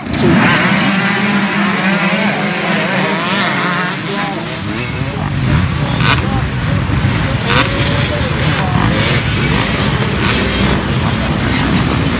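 A race bike revs at sign-up for a Hobbit GP motorcycle race, its engine roaring steadily and loud for the whole stretch while a voice talks over it.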